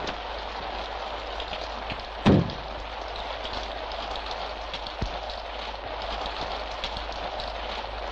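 Heavy rain pours down steadily on a mountain road, a dense continuous hiss with one sharp knock partway through and a fainter thud later, no voices.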